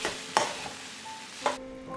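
A spoon stirs a mixture through hot coconut oil tempered with spluttered mustard seeds and dried red chillies, giving soft scraping strokes with two sharper clinks against the pan over a light sizzle.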